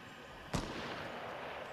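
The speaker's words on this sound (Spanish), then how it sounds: "escuchan tiros de francotirador" A single sharp sniper gunshot in the Fortnite video game, a loud crack with a short echoing tail over steady game background noise.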